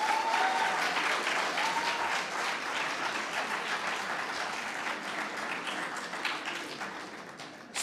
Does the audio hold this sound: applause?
yes